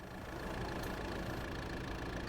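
A Kubota tractor engine runs steadily at idle, a faint, even, continuous mechanical drone with no speech over it.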